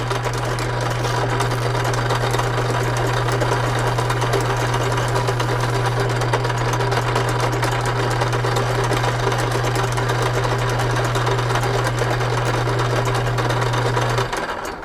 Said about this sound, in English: So now I'm just going to go through the sandpaper just like we did on the other one.